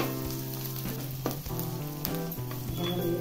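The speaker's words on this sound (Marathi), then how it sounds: "तेल गरम झाले की थोडासा कांदा लाल होईपर्यंत परतायचा" Onion frying in hot oil for a mixed vegetable Kolhapuri dish, a continuous close sizzle with light stirring sounds over it.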